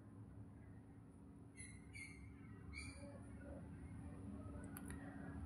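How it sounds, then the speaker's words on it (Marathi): Birds calling at dawn on an open plateau after light rain, a few short chirps and whistles scattered over a steady low rumble, fairly distant and faint. "पक्ष्यांचा आवाज, किलबिलाट,"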